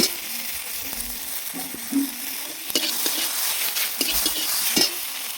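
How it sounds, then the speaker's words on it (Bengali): Onion and tomato fry in oil in a pan with a steady sizzle, while a spoon scrapes and clacks against the pan as the mix is stirred. "ভালো করে নেড়ে করে নেব।"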